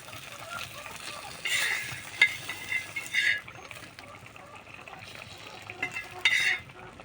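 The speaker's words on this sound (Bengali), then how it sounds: "তরকারি খুলে দেখিয়ে দিচ্ছি, এরকম ফুটছে।" Fish curry with fish heads and a tail bubbles in an open pot, a quiet simmer broken by several louder bursts of bubbling and spattering at irregular intervals.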